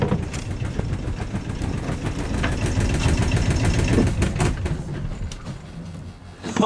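A sailboat's inboard engine runs with a steady, rough mechanical drone and rattling knock, loud and close, holding a constant level before briefly dipping near the end.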